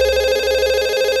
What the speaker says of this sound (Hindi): देखा देखा, आ गया फोन।